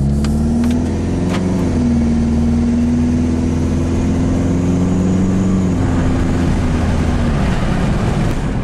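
Chrysler PT Cruiser GT with a Mopar Stage 1 tune pulling away at quarter throttle, a loud, close engine drone climbing steadily in pitch with a shift partway through, continuous and without speech.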